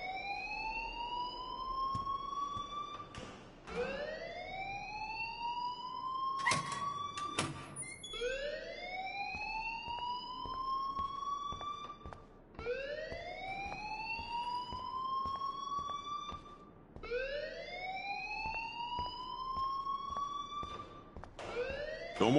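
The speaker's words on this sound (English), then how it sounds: "please turn off that alarm since that's your job" Fire alarm in the video game Life is Strange: a rising electronic siren wail repeating about every two and a half seconds, loud and steady, with a few sharp clicks in between.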